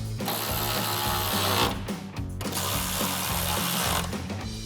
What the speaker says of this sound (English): Grab a ratchet, 10mm socket, and tighten those two down.